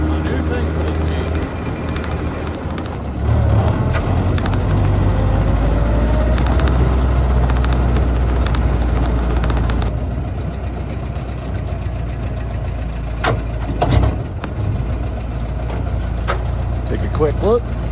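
A Willys Jeep engine pulls in third gear on a test drive, a steady mid-pitched rumble with a fuller surge partway through and a few knocks and clunks, heard close from the cab.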